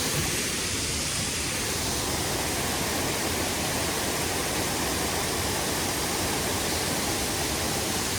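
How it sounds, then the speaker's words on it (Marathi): A heavy mountain waterfall in Uttarakhand near Badrinath pours with a loud, unbroken, close roar of rushing water that stays steady throughout, with no voices. "किती भारी पाणी पडतंय"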